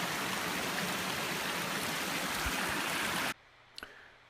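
Horton Creek flows in a dense, even rushing wash of water near the mic for over three seconds, then cuts off abruptly to quiet with a couple of faint knocks.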